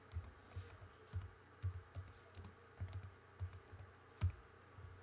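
Typing on a computer keyboard, a quiet run of light, irregular key clicks close by, with one louder keystroke near the end and no talk.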